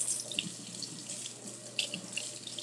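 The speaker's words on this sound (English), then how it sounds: "Let me rinse this off." Steady running water from a kitchen sink tap as something is rinsed off during brownie brittle baking, a continuous close splashing hiss with small bursts as the item moves under the stream, no talking.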